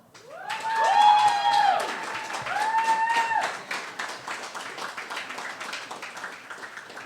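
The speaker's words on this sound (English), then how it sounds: "give them another round of applause" A crowd applauds at a graduation ceremony: dense clapping rises quickly, with a few whoops at the start, then thins and tapers off.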